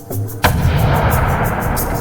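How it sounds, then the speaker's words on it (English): A baseball bat cracks against a pitch for a home run at Busch Stadium in 1998, one sharp loud boom like a gunshot followed by a roaring crowd swell. "It sounds like a gun going off when he hits him."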